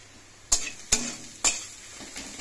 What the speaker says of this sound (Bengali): আমি মাছের ঝালের এই পেঁয়াজটাকে আরও একটু ভেজে নিচ্ছি